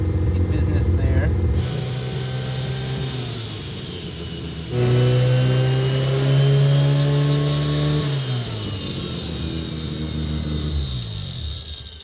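Turbocharged Mazda RX-7 FC engine started after sitting for 15 years, catching and settling into a rough, steady idle that briefly rises in revs before dropping back, close and loud, with people talking over it.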